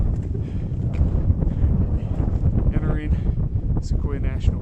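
Wind gusts across a high mountain trail near Mt. Whitney in Sequoia National Park, buffeting the microphone with a loud, continuous low rumble while someone talks briefly over it.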